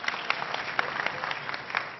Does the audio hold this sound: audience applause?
yes